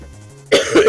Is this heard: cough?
yes